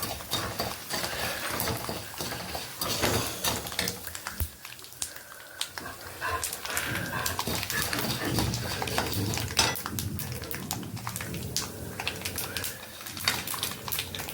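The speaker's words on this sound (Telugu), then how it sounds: "చిట్పట్లు ఆడుతున్నాయి కదా" Mustard seeds splutter and crackle in hot oil, frying for a Telugu-style bitter gourd (kakarakaya) pickle, a dense run of irregular sharp pops and ticks, close and fairly quiet, with no talking.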